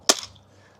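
A single sharp snap from a Bug-A-Salt salt gun fired at a fly, close and loud, with a quick decay into quiet.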